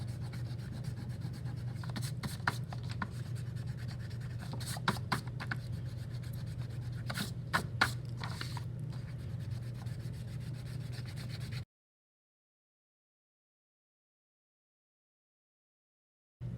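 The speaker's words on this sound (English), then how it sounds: "I can take an eraser and erase any pencil lines that I still see" An eraser rubbing out pencil lines on paper beside Sharpie outlines, a quiet close scrubbing with quick back-and-forth strokes and a few sharper scratches, then silence near the end.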